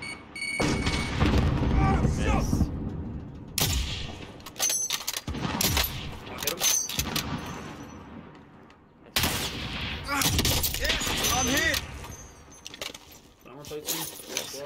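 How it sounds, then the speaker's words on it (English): Grenade blasts and gunfire in Call of Duty: Warzone, loud sharp booms and crackling shots in bursts with gaps between, and players talking over the action. "Grenade out!"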